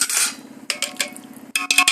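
Clattering of metal cookware: a pot of boiling biryani water being covered with a plate, with a few sharp clinks and scrapes up close, no talking.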